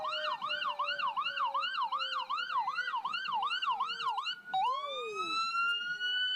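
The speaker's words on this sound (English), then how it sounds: "Very loud sirens" Fire trucks in a homecoming parade on Main Street blare loud wailing sirens, rapid whooping cycles that switch to a long rising wail, close and dominating.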